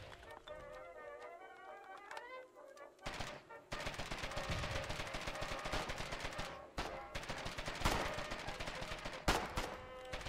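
Heavy wartime fire in Foxhole, with bursts of gunshots and booming impacts from howitzer artillery, loud and sustained after a quieter opening, while voices talk throughout.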